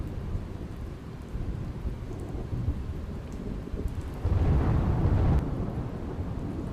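Steady monsoon rain falls in Gujarat in a dense hiss with a low rumbling undertone that swells briefly midway, constant and fairly close.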